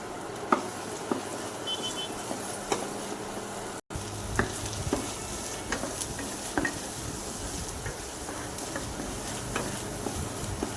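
Mango bhurji frying in a pan while being stirred: a steady close sizzle with repeated scraping taps of the stirring utensil, one brief cut in the middle, no talking.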